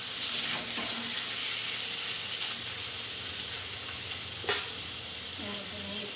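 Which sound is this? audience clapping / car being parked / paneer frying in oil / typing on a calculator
paneer frying in oil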